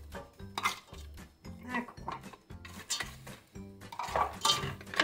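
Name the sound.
peas being added to mushrooms in a pan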